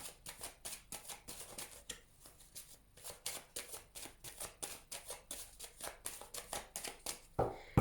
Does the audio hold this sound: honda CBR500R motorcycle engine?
no